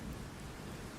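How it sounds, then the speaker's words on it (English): Thunderstorm sound effect of steady heavy rain with a low rumble of thunder, a brief dense wash of noise with no voices. "Suddenly, there was a clap of thunder and a strike of lightning outside."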